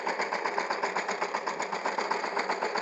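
A power tiller engine runs steadily at a fast, even idle, its rhythmic mechanical chatter holding at a constant moderate level with no talk over it.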